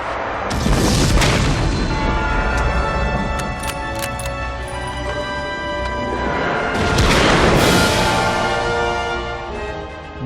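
Heavy, booming sniper rifle blasts roll through a dense war film soundtrack, with two big swells of noise and rumble echoing in a dramatic final scene.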